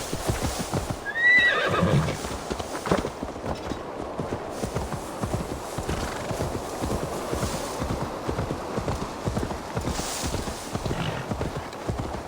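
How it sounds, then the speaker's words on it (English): A horse in the game Assassin's Creed Valhalla gives a bright whinny near the start, then its hooves clip-clop steadily through the rest, with a low rumble of ambience underneath and no speech. "Now to deliver Magni his horse."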